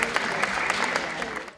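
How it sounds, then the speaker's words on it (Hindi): Steady, dense applause from an audience in a hall at an awards ceremony welcomes speakers, a continuous wash of many hands clapping that fades out at the end. "आइए ज़ोरदार तालियों के साथ उनका वेलकम करते हैं।"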